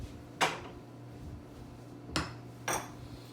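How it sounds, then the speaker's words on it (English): A utensil scrapes down the inside walls of a cooking pot, heard as three short, sharp metallic knocks spaced apart against an otherwise quiet kitchen background. "Scrape the sides down here"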